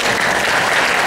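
A room of students claps together in dense, steady applause, loud and close, for about a second.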